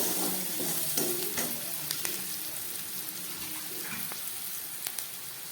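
Green chillies go into a pan of frying tarka for dal, raising a steady sizzle with stirring scrapes and a few clinks, fairly close and quiet, with no voices.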